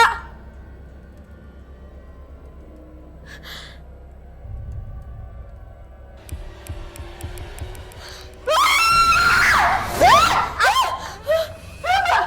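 A woman screams in a series of sharp, loud, high cries near the end, following a quieter stretch of low rumble and faint indistinct sounds.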